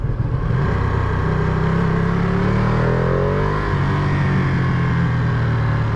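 A 2023 Ducati Panigale V2 motorcycle with stock exhaust revs up, its pitch climbing as it accelerates, loud and close, with a steady rumbling drone underneath.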